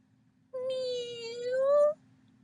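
A single drawn-out meow from a black cat named Snoop, rising slightly toward the end. It is close, clear and alone against a faint low hum.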